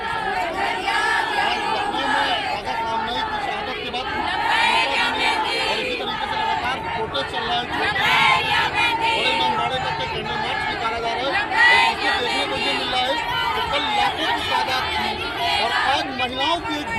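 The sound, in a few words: crowd at a protest candle march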